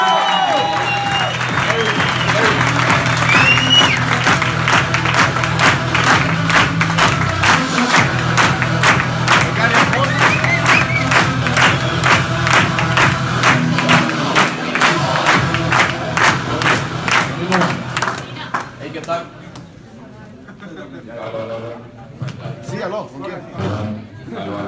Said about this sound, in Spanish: Lázaro, un aplauso para ellos.